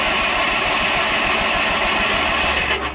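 A Bolens QT16 garden lawn tractor engine runs at a loud, steady idle close by, its low rumble holding even before trailing off slightly at the end.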